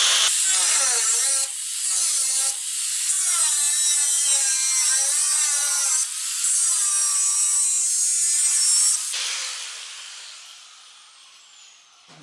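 Hand filing of a new fender being fitted to a used car, a close, harsh metallic rasping in long repeated strokes with brief pauses, fading out near the end.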